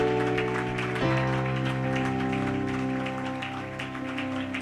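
A church congregation applauding during a prophetic service, dense continuous clapping under sustained organ or keyboard chords, loud and steady throughout with a brief shift in the music partway.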